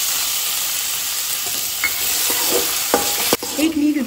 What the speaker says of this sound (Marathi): आमी तेलान न्ही आतां मातसो बरो भाजून घेवया